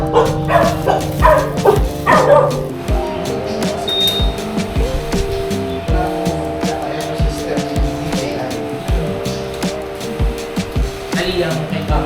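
A dog barks several times in quick bursts near an outdoor motorbike installation spot. Voices talk over the barking, and steady engine and road noise runs underneath.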